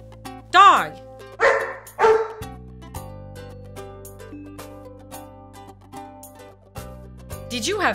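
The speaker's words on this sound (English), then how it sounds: "Dog." A dog in a children's cartoon gives three sharp, close barks in quick succession, followed by bouncy background music and another brief yip at the end.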